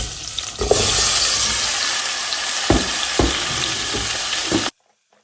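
Chopped tomatoes, onion and garlic sizzle and fry in a splash of oil in a pot, a steady loud crackle broken by a few sharp clatters of stirring, then stopping abruptly.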